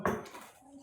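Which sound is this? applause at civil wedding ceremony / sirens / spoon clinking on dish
spoon clinking on dish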